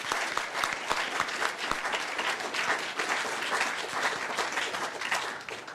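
An audience at a panel session's closing remarks applauds steadily, a dense, continuous patter of many hands clapping throughout.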